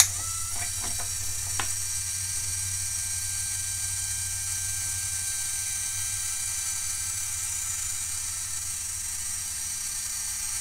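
Small electric cup spinner motor turning a cup, a faint steady whine and hum after a few brief clicks at the start, heard up close and alone.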